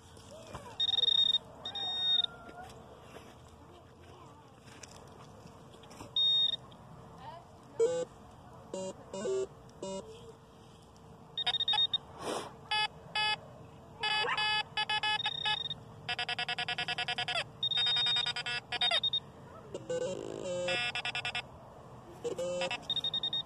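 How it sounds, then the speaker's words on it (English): A mobile metal detector sweeps over dirt while searching for a lost gold ring, sending out repeated bursts of electronic beeps in clusters of varying length while people talk nearby. "Mobile metal detector."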